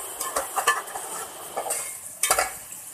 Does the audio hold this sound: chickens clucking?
no